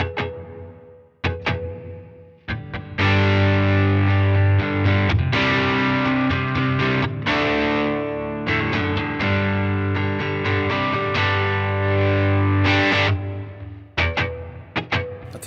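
An electric guitar through a Line 6 HX Stomp set to the Plateaux shimmer reverb plays sustained chords that ring and blur into a thick, washy, slightly distorted tail, with short gaps between phrases.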